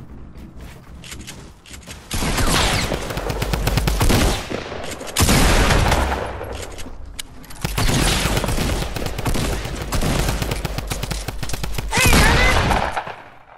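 Rapid gunfire in the video game Fortnite comes in long, dense bursts separated by short pauses, loud and close, with a brief shout in between.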